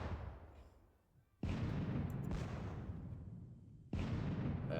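Artillery guns fire in the Napoleonic wargame WDS Ney at the Katzbach: two loud, close cannon booms, each followed by a long rumbling decay, with a quieter fading rumble before the first shot.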